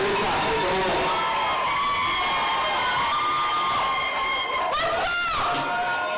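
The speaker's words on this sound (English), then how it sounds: "the crowd reacts as if it's really her" A crowd cheers and screams loudly for an impersonator taking the stage at a concert, a continuous excited roar with high shrieks swelling near the end.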